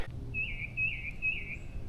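Birds sing along a spring off-road cycling trail among flowers, with one clear, high, warbling phrase repeated several times close by over a low rumble of outdoor noise.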